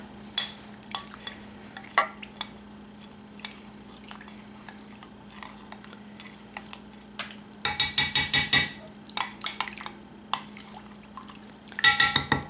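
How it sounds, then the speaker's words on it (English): Menthol and camphor muscle salve stirred in a container, with soft scraping and tapping clicks throughout and two louder bursts of rapid scraping near the end, set against a steady low hum. "all I'm going to do is I'm going to mix in my fabulous salve"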